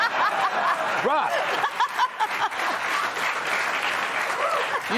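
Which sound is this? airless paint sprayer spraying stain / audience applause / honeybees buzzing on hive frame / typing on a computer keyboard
audience applause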